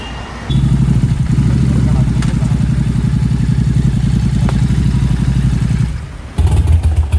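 A Suzuki Hayabusa motorcycle runs at a loud, close idle with rumbling clatter during an Ayudha Pooja blessing of vehicles. The engine briefly drops away near the end and then returns, and a voice talks over it.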